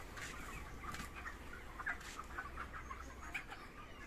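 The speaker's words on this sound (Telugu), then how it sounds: "భలేగా ఉన్నాయి కదా కోళ్ళు. విమలా ఫీడ్స్ వాళ్ళ కోళ్ళ ఫామ్ అండి." Chickens at a Vimala Feeds poultry farm cluck and chatter in scattered short calls over a low steady background, faint and somewhat distant, with no one speaking.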